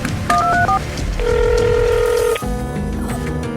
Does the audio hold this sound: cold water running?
no